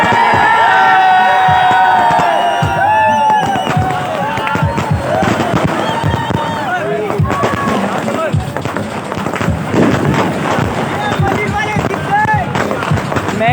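Loud fireworks crackle and burst continuously at a tape-ball cricket tournament final in Malir, Karachi, while a big crowd cheers and shouts close by.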